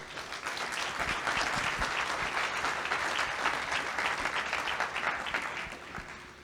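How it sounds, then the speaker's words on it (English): An audience at a county executive candidate forum claps for itself, a dense, even round of applause from a full room that swells quickly, holds steady, and tapers off toward the close. "Give yourselves a round of applause."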